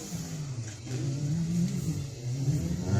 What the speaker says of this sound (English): Look at that big horsepower going down the front stretch.